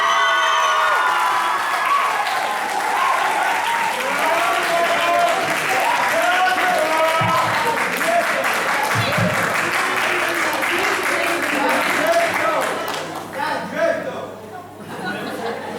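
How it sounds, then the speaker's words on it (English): An audience at a Model United Nations conference gives a long round of loud applause mixed with cheers, whoops and crowd chatter, fading toward the end as voices take over. "May we give a round of applause?"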